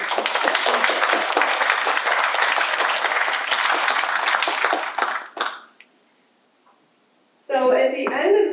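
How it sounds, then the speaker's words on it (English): An audience at a graduation ceremony gives loud, dense applause that fills the room for about five seconds, then stops into near silence before a person begins speaking. "Let's give our guests a round of applause."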